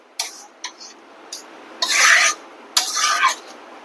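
Jaggery mixture for gur naru is stirred in a pan over medium heat, giving close, irregular rasping scrapes. Several short strokes come first, then two longer scraping passes.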